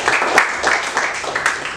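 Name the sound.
class applauding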